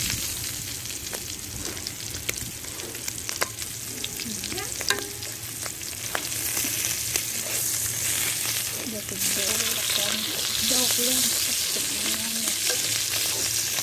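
Meat browning with tomato in a pan over an open fire, a steady close sizzle and crackle with occasional stirring scrapes and clinks running throughout, no talk.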